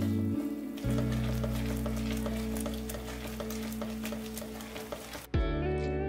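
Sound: stirring and mashing chana in a pan

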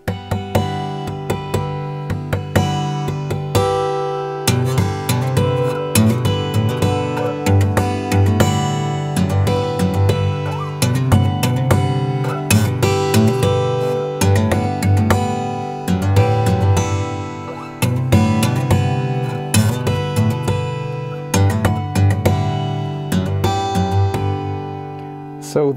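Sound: acoustic guitar slap harmonics

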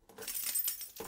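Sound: car keys jangling

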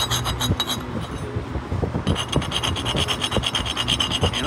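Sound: scraping laser-cleaned steel sample in scrape test

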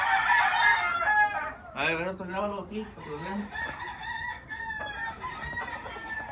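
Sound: rooster crowing

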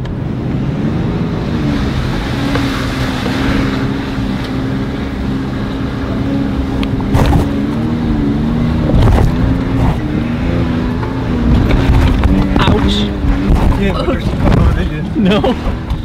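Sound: overland off-road vehicle climbing a hill

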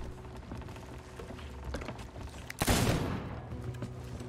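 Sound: gunshot in the video game Sea of Thieves

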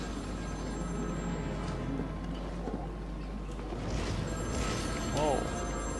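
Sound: telephone ringing in Batman video game

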